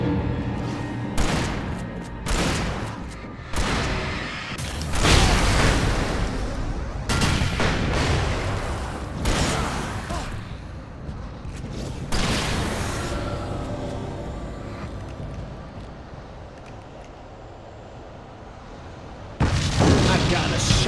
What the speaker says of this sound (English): That explosion was timed perfectly with that sound alert, to the point that I thought that was in-game.